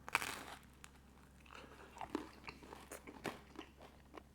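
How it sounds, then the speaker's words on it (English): Someone bites into crunchy toast topped with avocado, fava beans, sesame seeds and chili oil, giving a sharp close crunch at the start followed by several softer crunchy chewing bites, with no talking. "now we're gonna taste the avocado fava bean toast"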